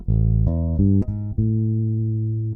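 A Bogart Karl Clews Signature Broadsword bass guitar plays a few warm, round low notes with a short reggae-style phrase, loud and close, no talking.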